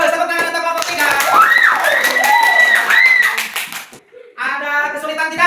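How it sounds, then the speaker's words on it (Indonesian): Classroom children clap and cheer for group 3, rhythmic hand claps mixed with excited high voices and shouts, close and lively, pausing briefly before the clapping resumes. "Tepuk tangan untuk kelompok 3."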